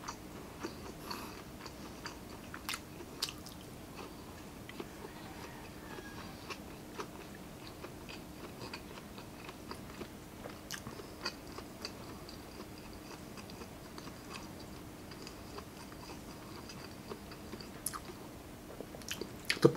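Steady close-up chewing of deep-fried Korean spicy sweet tofu and pork sisig, soft wet squishes and small crunches repeating at an even pace over a faint background hum.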